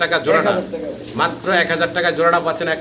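Pigeons of mixed colours at a wholesale pigeon market coo repeatedly in close, loud bursts, with someone talking over them throughout.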